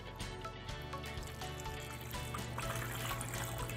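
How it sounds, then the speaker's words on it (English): Green liquid is poured into a toy monster container and fizzes steadily, a continuous wet hiss and bubbling crackle with no talk over it. "Oh, it just totally fizzed."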